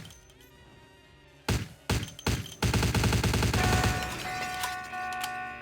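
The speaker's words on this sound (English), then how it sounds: "This explosion was a windfall." Explosion and gunfire in the Vampire The Masquerade Bloodlines video game: several sharp blasts hit in quick succession, then a sustained loud roar of rapid fire that fades into ringing tonal game sounds.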